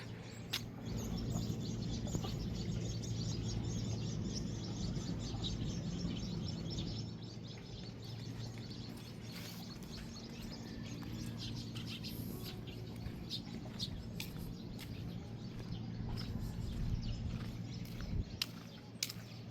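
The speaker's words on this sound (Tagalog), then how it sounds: "at syempre yung mga humuhuning ibon" Birds chirp and tweet outdoors near the sea, scattered faint calls over a steady low background of wind and ambient rumble.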